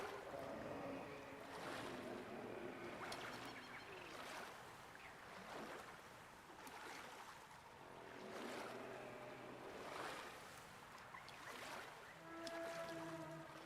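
Boat gliding along a swamp tour ride in the video game Jurassic World Evolution 3, a faint wash of water and low motor hum with recurring swells and scattered ambient animal calls.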